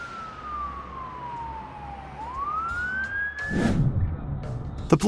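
Police car siren wailing on a road, a single gliding tone that falls and then rises again, moderately distant, with traffic noise that grows louder toward the end.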